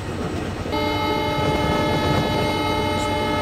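A WDG4 diesel locomotive hauling the Ahilya Nagari SF Express in an Indian train simulator game rumbles steadily, then a loud, sustained multi-tone horn cuts in under a second and holds to the end.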